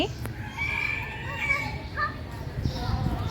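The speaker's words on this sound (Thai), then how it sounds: "แล้วก็จะมีไก่ด้วย" Roosters crow and hens cluck in the grounds of a Thai temple. Several drawn-out crows rise over a busy outdoor background, with scattered clucks between them.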